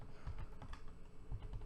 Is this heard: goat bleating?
no